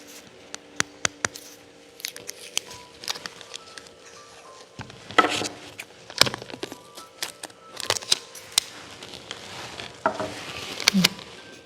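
Adhesive tape being pulled and cut for a paper roof craft, heard as a run of sharp crackling rips and clicks scattered over several seconds, fairly close and with no talking.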